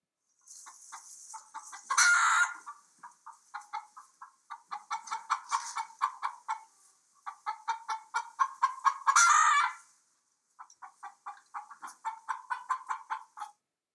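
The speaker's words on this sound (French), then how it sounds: "Écoute comme elle caquette." A hen clucks in repeated rhythmic bursts, with a couple of louder squawks mixed in, close and clear without any talking.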